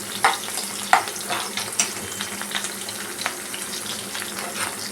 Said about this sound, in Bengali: পেঁয়াজটা মোটামুটি একটু লালচে হতে দেবো আমি, নাহলে এটা ভালো লাগবে না।